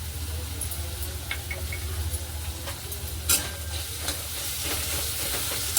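Onion with bay leaf, cloves, cardamom and a cinnamon stick frying in a pan for paneer bhurji, a continuous close sizzle broken by scraping stirs and a few sharper clatters of the spoon.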